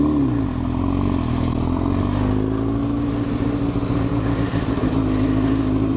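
A dual sport motorcycle engine runs close by, a steady droning idle whose pitch shifts slightly near the start, with light mechanical clatter and no talking.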